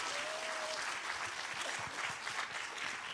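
A short burst of steady applause from a group, clapping continuously at moderate volume for a few seconds.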